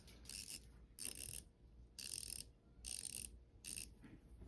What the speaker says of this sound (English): you've got your small little ratchet with the bit driving head, change direction.